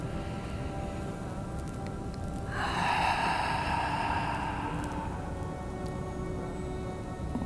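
A long, raspy ocean-breath drawn through a constricted throat during a breathing exercise, a soft ocean-like hiss that swells midway and then fades gradually.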